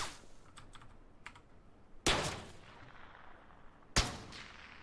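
Gunfire in PUBG, two loud, sharp shots a couple of seconds apart, each with a trailing echo, over a light background of clicking keys and game ambience.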